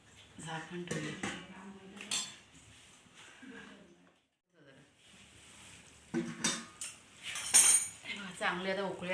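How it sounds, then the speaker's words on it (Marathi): A lid goes onto a cooking pot of masala rice with hot water: several close metallic clatters and clinks in two bursts, separated by a brief near-silent pause, with a voice speaking between them. "झाकण ठेवूया"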